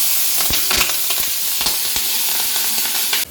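Sliced onion dropped into hot oil in a pan for a Bengali stuffed eggplant dish, giving a loud, close, crackling sizzle with bursts of popping and stirring clatter that continue throughout, with no talking.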